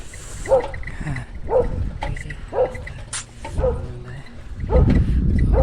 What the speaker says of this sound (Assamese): এইফালে কুকুৰে কান্দি আছে শুনিছে।